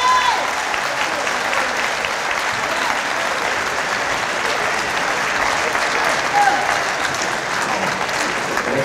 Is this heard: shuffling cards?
no